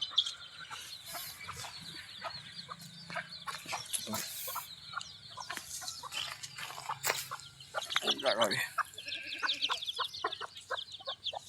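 One-month-old free-range country chicks cluck and peep continuously in a busy flock, a steady chorus of short calls with a faint voice now and then.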